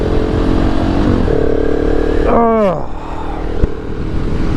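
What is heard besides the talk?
KTM 690 SMC R single-cylinder motorcycle engine riding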